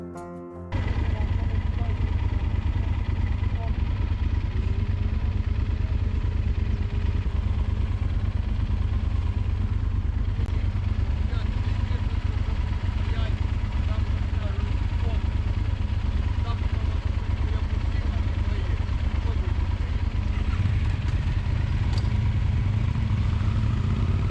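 Motorcycles at the Tarasova Hora motorcycle festival in Cherkasy in 2021, making a loud, continuous, dense engine roar and clatter that fills the whole stretch. Indistinct voices blend into the noise.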